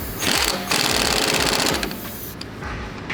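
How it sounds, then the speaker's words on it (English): A pneumatic impact wrench drives the lower strut nut tight on a 2009-2012 Lexus LS460 AWD front suspension, a loud continuous buzzing hammer that runs for about two seconds, pauses briefly, then bursts again. "And put the lower strut nut back on. Tighten it up using the impact."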